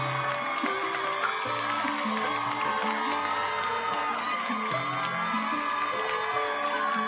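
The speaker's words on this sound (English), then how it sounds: "Wow, the crowd's going nuts." Crowd cheering and screaming during a live performance on a TV show stage, a steady, dense roar of shouting fans sustained throughout over prominent stage music.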